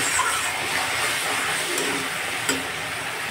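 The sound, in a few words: spice paste being sautéed in pan for fish curry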